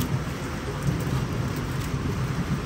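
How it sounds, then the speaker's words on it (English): Rain falling steadily at a small farm with low thunder rumbling underneath, a dense, even hiss of drops close by and no talking. "Still thundering too."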